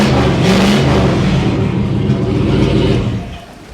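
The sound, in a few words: old knocking car engine running without muffler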